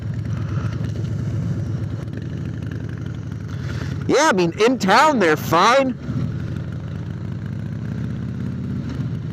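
A motorcycle engine idles with a low steady rumble on a cold day, heard close throughout while someone talks over it.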